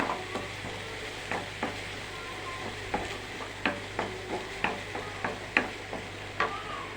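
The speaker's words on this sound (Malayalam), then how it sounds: "സവാള ഒന്ന് വഴന്ന് കിട്ടാൻ മതി" Onions and small prawns sauté in a pan over medium flame, a soft steady sizzle broken by a regular series of sharp spatula scrapes and taps, close and without talk.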